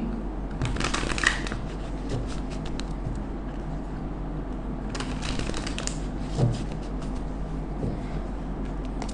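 Tarot cards are shuffled close by, two soft riffling bursts of papery flutter separated by quieter stretches over a steady low hum, no talking.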